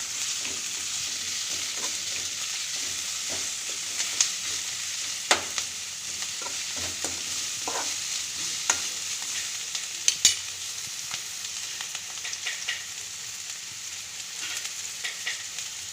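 Chana dal and carrot frying in a pan for spicy poha: a continuous close sizzle with occasional sharp stirring clicks and scrapes, no speech.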